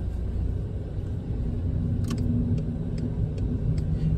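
A 2009 Škoda Fabia 1.2 Classic pulls away on the road, its steady low engine and road rumble running continuously and fairly close, with a few faint ticks over the top.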